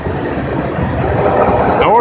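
Northbound Norfolk Southern mixed freight train rolling past behind a hospital in Athens, Tennessee, a continuous rumble of cars with a faint wheel squeal at the end, while someone talks over it.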